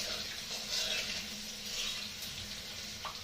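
Dried red chillies sizzling in hot mustard oil, a steady close hiss and crackle of frying without a break.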